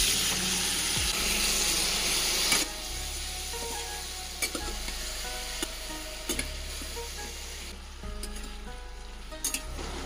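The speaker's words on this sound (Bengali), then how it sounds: "ভাত আর ঝিঙের তরকারি বসিয়ে দিয়েছি" Ridge gourd curry simmers and sizzles steadily in a pan, a continuous close hiss of frying with occasional soft stirring clinks and scrapes, no voices.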